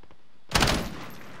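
Gunfire striking a rock in a quad battle royale video game: a single sharp, loud burst of shots that hits hard and then trails off into a fading rumble, with no voices.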